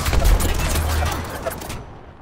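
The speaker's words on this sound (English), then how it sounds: "Taking fire! Listen up, I'm getting shot at." Sustained gunfire from the video game Apex Legends: a dense, loud barrage of rapid shots with heavy low-end rumble that runs for about two seconds and then cuts off abruptly.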